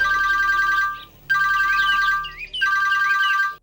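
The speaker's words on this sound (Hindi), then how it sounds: "रिंग जा रहा है।" A telephone rings in a dramatic indoor scene, giving bursts of an electronic warbling tone. Three close, loud bursts are separated by short gaps, with no talk over them.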